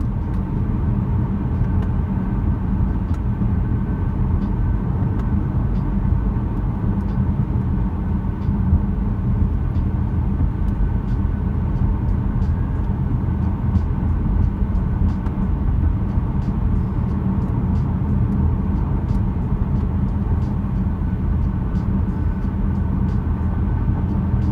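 A 2018 BMW 330i cruises at freeway speed with a constant low engine and road drone inside the cabin, steady and even throughout with faint ticks over the hum.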